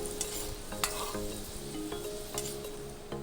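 Turmeric and dried red chillies sizzle steadily in hot oil for an Assamese dal, with a spoon stirring and scraping against the pan in short repeated strokes, close and fairly loud throughout.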